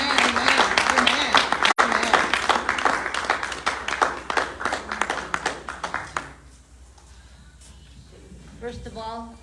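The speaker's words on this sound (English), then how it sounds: "Give it up, round of applause for Warrior Woman." Audience clapping for a Native American guest speaker, sharp individual claps over a murmur of crowd voices, tapering off after about six seconds into quieter room sound with a voice at the end.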